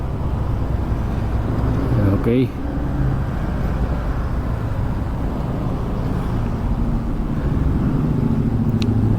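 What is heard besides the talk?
road traffic noise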